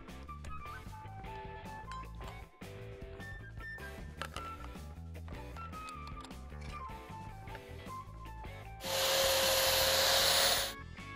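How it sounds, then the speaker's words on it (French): A sanding disc grinds the rough cut ends of metal rods, a loud steady hissing roar lasting about two seconds that breaks in over background music playing throughout. "on va prendre un disque à poncer et on va améliorer tout ça"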